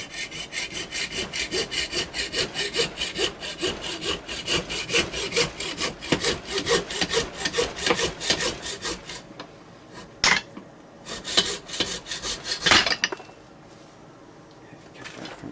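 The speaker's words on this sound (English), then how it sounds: "I'll start cutting through it." Hand saw cutting through a threaded part clamped in a bench vise while building a homemade piezo pickup for a ukulele: rapid rhythmic back-and-forth strokes, close and loud, stopping near the end with a few knocks.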